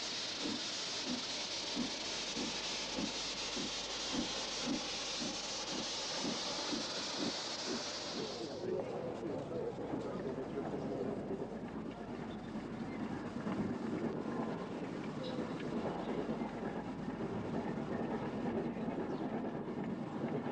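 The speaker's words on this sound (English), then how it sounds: "Sir Lamiel, far from its home on the Southern Railway, accelerates away towards Carlisle" Steam locomotive Sir Lamiel, a Southern Railway engine, pulling away towards Carlisle on a line through Appleby, with rhythmic exhaust beats and a loud hiss of steam that cuts off, then the train rumbling on steadily.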